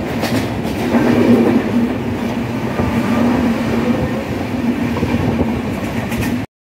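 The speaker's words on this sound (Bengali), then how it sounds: "এক প্রকার ভাঙচুর গতি নিয়ে আমাদের ট্রেন কিন্তু অতিক্রম করছে আজিমনগর জংশন।" The Panchagarh Express, heard from on board, races through Azimnagar junction at high speed with a loud, continuous rumble and rhythmic wheel clatter that stays steady throughout and cuts off at the end.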